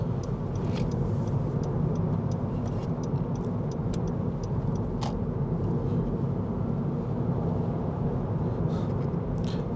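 A 2015 Honda Civic Rebirth takes a bend at high speed, heard as a steady, close cabin drone of engine and road rumble that holds level throughout, with no voices.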